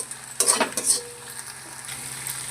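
Onions sizzle in a pan for mutton curry, with a quick burst of spoon scrapes early on before the frying settles into a quieter, steady hiss.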